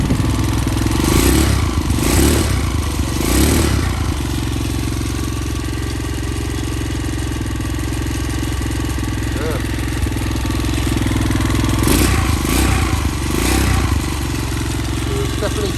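A cheap Chinese quad bike with a faulty starter and electrical problems starts and settles into a loud, steady running idle, with a few surges of clatter and revving, while voices talk over it.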